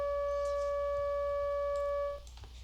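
A steady frequency-modulated tone from two sine oscillators in a Pure Data synth, holding even and bright with a few faint overtones, then cutting off abruptly near the end to quiet.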